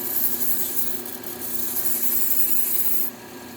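A chef's knife edge is drawn lightly along a fine sanding belt, giving a steady, soft abrasive hiss over a constant machine hum for a few seconds before the grinding sound drops away.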